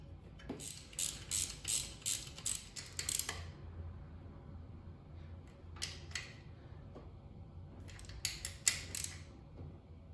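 A ratchet tightens bolts on a Corvette C3 water pump, giving close bursts of quick clicking strokes separated by short pauses, with faint handling noises between them.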